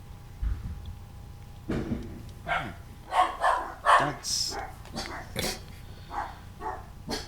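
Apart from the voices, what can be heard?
dog barking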